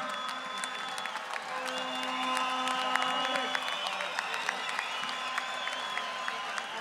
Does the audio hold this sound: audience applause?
yes